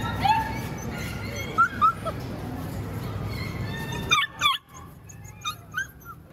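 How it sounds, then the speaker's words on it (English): Rescued beagles, part of a large group removed from a breeding facility, bark, yip and whimper close by, with sharp barks bursting out in clusters over a constant background of dog noise. "We're surrounded by beagles."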